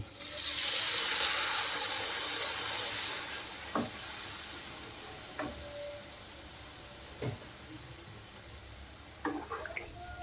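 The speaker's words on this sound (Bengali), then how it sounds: "সামান্য জল দিয়ে দেব।" Water poured into a hot pan of food, including ghee and chilies, bursts into a loud hiss that gradually fades into a soft sizzle, punctuated by a few sharp clinks of a stirring utensil.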